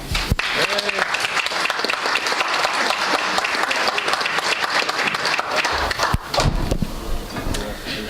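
An audience at a Lions club meeting applauds to welcome speaker Alan Rose, steady dense clapping that fades near the end as a few voices and movement sounds come through.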